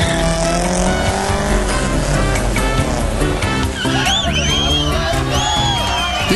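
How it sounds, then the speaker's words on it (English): Street racing cars at night roar and rev loudly nearby, engines surging, with sharp tire squeals toward the end. "Look, here are some more good cars."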